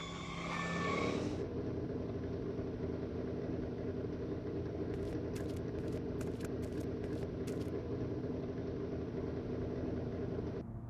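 A game car engine idles and revs steadily at close range for the whole stretch, with a brief tonal chime at the start and a short run of clicking ticks in the middle, from the Back to the Future video game.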